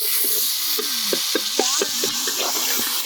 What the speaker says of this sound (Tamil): இந்த வெங்காயம் பொறுத்த வரைக்கும் நல்லா ப்ரௌன் வரணுங்க.